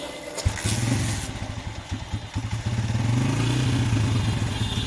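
A Honda CG 125 motorcycle engine with a carburetor out of adjustment sputters and stumbles close by, its uneven chugging beats rising and falling after a sharp start, loud and steady with no talk over it.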